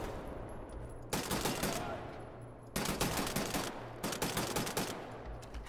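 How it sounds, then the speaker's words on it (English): Gunfire in Wolfenstein The New Order, aimed at a pillar to break it down, comes in three loud sustained bursts of rapid shots separated by short quieter pauses over a low background hum. "I can shoot down that pillar slowly"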